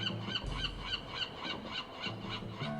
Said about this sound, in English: Well, I can hear some seagulls.